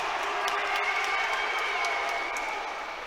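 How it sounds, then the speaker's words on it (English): Crowd at a BA68 fight night in Nottingham cheering on Jake Thorp, a steady, fairly distant roar of voices and applause holding throughout with no clear pauses. "it's just the crowd getting very enthused by their man, Jake Thorp, doing so well"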